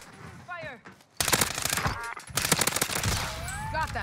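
Call of Duty Warzone gunfire: loud, dense bursts of rapid automatic shots in two heavy volleys, mixed with game effects and a shouting voice in the middle of a match.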